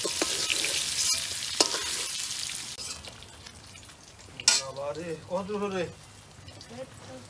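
Masala sizzles and crackles in a hot pan while being stirred, the frying hiss close and continuous, with someone speaking briefly over it partway through.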